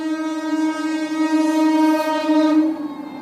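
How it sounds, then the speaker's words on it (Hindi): A long train passes close by, its horn sounding as a loud sustained blast layered over the steady rumble of the cars, with no one talking. "ले भाई फाइनली आ गई है रेल और फुल देख बड़ी है"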